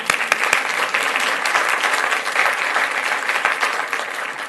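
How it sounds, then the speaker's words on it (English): Audience applause at an evening recognition event in Fort Worth, a dense, steady wash of many hands clapping, loud and close, holding evenly throughout. "let's give them one more round of applause"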